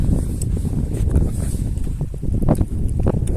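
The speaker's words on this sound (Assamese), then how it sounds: "ধুনীয়া ধুনীয়া হাৱা মানে ক'ব নালাগে ইমান ধুনীয়া মানে বতাহ মাৰিছে" Wind blowing across the Brahmaputra riverbank on the way to Majuli, buffeting the microphone with rough low gusts and a few brief knocks or rustles over a constant outdoor rumble.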